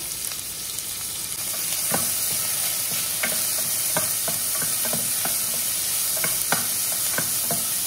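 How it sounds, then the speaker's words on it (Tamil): Chopped onion frying in oil in a pressure cooker, a steady close sizzle with periodic scraping stirs, fairly loud and continuous, no speech. "இப்போ ஒரு குக்கர் ஒன்று வச்சுட்டு அதில் கொஞ்சமாக எண்ணெய் ஊற்றிப்போம். ஒரு பெரிய வெங்காயம் கட் பண்ணி வச்சுருக்கேன், அது சேர்த்துப்போம்."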